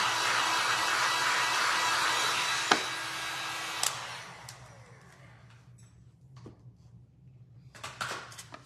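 A blow dryer roars steadily over a first coat of resin in glass and resin art, then switches off with a few light clicks and knocks, leaving a quiet room.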